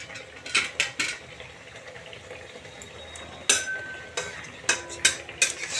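A pot of curry lifted off a stove, giving a few sharp metallic clinks and scrapes in bursts over a quiet kitchen background.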